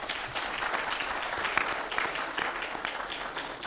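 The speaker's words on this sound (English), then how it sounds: "let's give Pascal Lamy and all of us a big applause" Applause at a VIP luncheon on green trade, a room of guests clapping steadily and fairly loudly throughout, with no break in the clapping.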